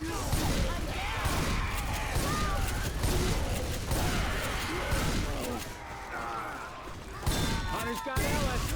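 Dense, rapid gunfire rattles almost continuously in the Left 4 Dead 2 shooter as players fire at the Tank, with clattering weapon sounds and players' voices shouting over the constant shooting.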